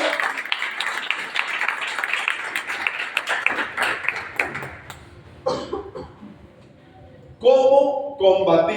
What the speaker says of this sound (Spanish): ¿Cuánto le dan ese aplauso al Señor esta mañana?